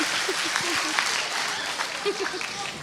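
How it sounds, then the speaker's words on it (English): Audience applause at a school spring concert, honoring the musicians: a dense, steady wash of many hands clapping close and full, with faint voices mixed in. "One more round of applause for all our musicians."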